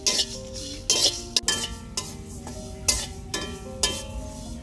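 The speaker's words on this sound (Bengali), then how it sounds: "খুব ভালোভাবে ভেজে নিব," Dried chilli, turmeric, mustard and radhuni are stirred in a hot pan for hog plum pickle, the spoon scraping and clinking against the metal in rhythmic strokes roughly every half second, close and clear.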